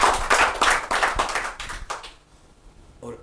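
An audience claps for a speaker at a community event, a short burst of dense applause that fades out after about two seconds, followed by a brief isolated sound.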